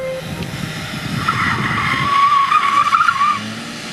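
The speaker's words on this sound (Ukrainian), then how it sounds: "Звук двигуна мене скажімо, не вражає." A Skoda Octavia RS (A7) drives with tires squealing and skidding over a steady engine roar, growing louder toward the middle before easing off.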